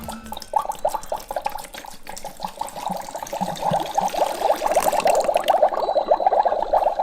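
Liquid pours steadily into a cauldron with a bubbling, gurgling splash that grows fuller toward the end. No talking.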